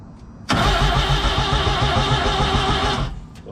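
A Suzuki Samurai engine cranks and fires after gasket work, a sudden loud mechanical roar that runs steadily for about two and a half seconds before cutting off.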